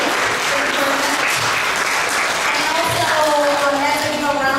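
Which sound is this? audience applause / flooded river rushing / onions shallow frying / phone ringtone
audience applause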